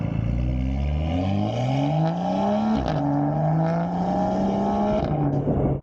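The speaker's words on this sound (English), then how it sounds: "I was hearing the purest possible N55 exhaust notes, and they were all coming from the back." A BMW M2 with an N55 engine drones steadily, its exhaust note climbing in pitch through the gears with brief dips at each shift, loud and close throughout.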